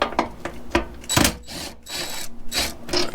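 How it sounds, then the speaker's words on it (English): Ratchet or wrench work loosening bolts on the slotted front fender of a 1999-2004 Jeep Grand Cherokee, heard as a series of short metallic clicks and scraping bursts, close and fairly loud, with no talking. "You just need to loosen those because the fender is slotted"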